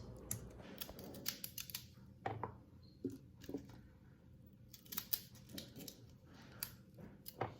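Scissors snip Brussels sprouts off the stalk from a home garden in zone 3, giving a string of crisp, irregular cuts with small rustles and handling noises in between, close up and with no talking.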